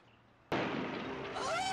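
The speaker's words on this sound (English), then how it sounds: "Explosion!" In a film scene, a sudden loud explosion bursts after a brief quiet hum and sustains as a roaring, crackling rumble.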